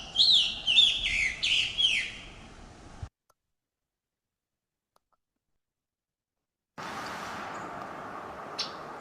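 A recorded bird call gives a quick series of about six burry, buzzy chirps lasting a few seconds, then cuts to silence before a faint hiss of background noise resumes.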